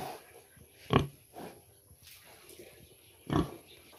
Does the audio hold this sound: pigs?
yes